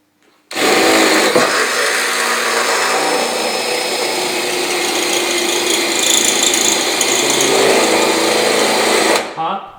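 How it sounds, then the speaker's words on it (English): A power drill bores holes through the boxed steel sill of a Land Rover Discovery 2, a loud continuous grinding whine that starts abruptly and runs steadily for several seconds before cutting off. "The sill is fully boxed, so you will need to drill 2 holes"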